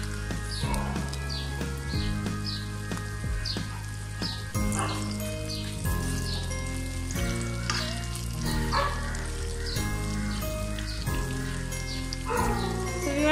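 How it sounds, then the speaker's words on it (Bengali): Hilsa fish pieces frying in hot oil, with dried lentil dumplings added to the pan: a steady, close crackling sizzle runs throughout, laid over continuous background music. "মাছটাকে বেশি ভাজলে ওই টেস্টটা পাওয়া যাবে না, এই জন্য আমি একটু তুল তুল করে ভেজে নিয়েছি।"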